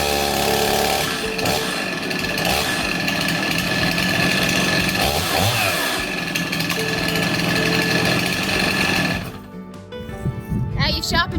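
A Stihl Farm Boss MS319 chainsaw runs loud and steady at throttle, its engine drone continuous before dropping away near the end as someone speaks over it.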